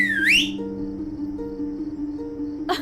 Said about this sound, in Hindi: तुम्हारी सीटी सुन के सारे शहर की लाइट चली गई।